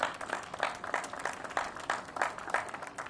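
A sparse, soft round of applause rises from a gathered audience at a city officials' public meeting in Cleveland, with scattered uneven claps heard from a distance under faint room noise.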